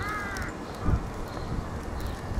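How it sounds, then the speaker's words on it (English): A seagull calls out once in a short, raspy burst, fairly close, over steady outdoor background noise at Barnham railway station. "Ooh, noisy seagull."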